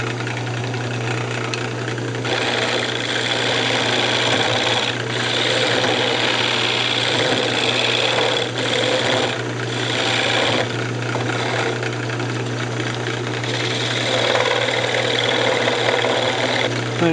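Wood lathe spinning while a tenon is undercut on a turned Christmas ornament, a steady loud motor hum with a constant whine and light cutting scrapes running throughout.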